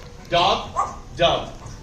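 A parrot at a Sarasota Jungle Gardens bird show imitates a dog, giving two or three short, close bark-like yips in quick succession.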